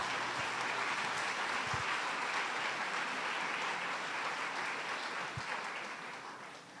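A church congregation claps throughout a Sunday sermon, a dense, even wash of many hands that holds steady and then tapers slightly toward the end, heard from a distance in a large room.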